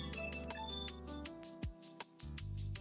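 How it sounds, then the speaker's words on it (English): A telephone rings with a bright, repeating electronic ringtone pattern, fairly faint and musical, with no voices over it. "we have the phone call again."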